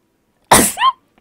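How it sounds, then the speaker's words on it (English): A single sharp, close sneeze bursts out with a short voiced tail, loud and alone against silence, from a character at a casino cashier in Fallout: New Vegas. "Cannot stop sneezing today."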